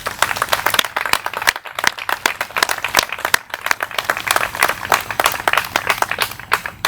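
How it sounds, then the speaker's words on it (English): A crowd at the Hillsborough 250th parade event breaks into applause, with dense, lively clapping that keeps going steadily and close by throughout. "I'd like to give everybody a round of applause for helping"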